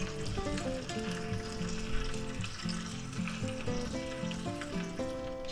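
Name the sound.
bread toasting in pan on burner, sizzling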